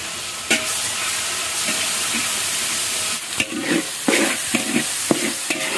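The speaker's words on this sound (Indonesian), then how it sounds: "Langsung saja masukkan bumbunya digoreng ya" Spice paste with red chili fries in a pan, a loud, dense sizzling hiss broken by repeated stirring scrapes and taps toward the end, close up with no talking.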